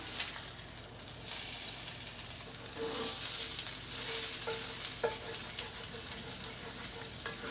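Onions frying and sizzling in a pan at steady volume, stirred with a utensil that scrapes and taps a few times against the pan, while seasoning cooks in the bottom for a smothered meatball dinner.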